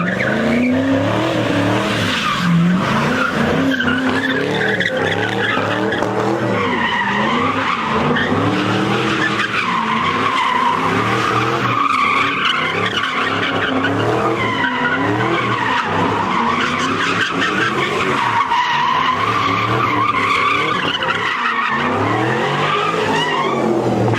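A 2020 BMW skids and drifts at a crowded New Year's car meet, tires squealing continuously and the engine revving loudly up close, with crowd noise underneath throughout.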